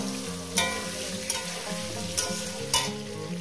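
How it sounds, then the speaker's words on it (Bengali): Potato pieces frying with salt in a pan, a steady close sizzle broken by four sharp spatula scrapes and clacks as they are stirred, with no talking. "দিয়ে এটাকে সুন্দর করে আমি ভেজে নেবো, যত আলুর ভাজার একটা সেন্টটাই আলাদা"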